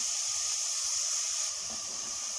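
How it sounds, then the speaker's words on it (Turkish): Onions and meat sautéing in a pan for dry bean stew, giving a steady, close, hissing sizzle that holds at an even level throughout with no pauses. "Soğanla etimizi de bir güzel kavururken"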